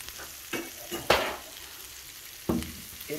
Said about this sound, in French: Et nous allons venir maintenant remuer tout ça à feu doux de préférence